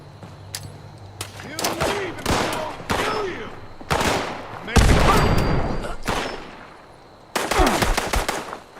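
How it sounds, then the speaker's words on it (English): Automated gun turret in Fallout 76 fires repeated loud bursts of rapid gunfire, separated by brief pauses, with a voice speaking between and over the shots. "Automated gun."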